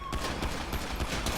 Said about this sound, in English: 1K27 shots fired on officers.